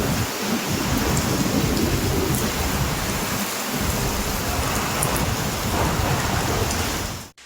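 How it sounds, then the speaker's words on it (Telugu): Heavy unseasonal rain pours down steadily in Telangana, a dense roaring hiss with low thunder rumbles beneath, continuous and loud before cutting off abruptly at the end. "ఉరుములు, మెరుపులతో ఆకాశానికి చిల్లు పడిందా అన్నట్లుగానే వర్షం పడింది"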